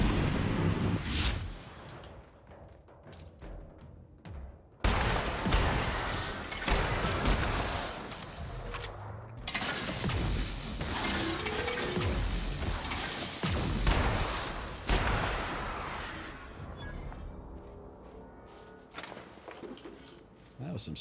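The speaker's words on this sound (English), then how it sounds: "That was some sloppy shooting right there." Bursts of gunfire from the sci-fi video game The Outer Worlds, several loud volleys and shots scattered through a busy combat scene with music and effects, someone talking over much of it.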